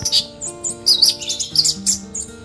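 An orange-headed thrush (anis merah) sings in repeated bright, clear chirping phrases, close and fairly loud, over a steady low hum in the background.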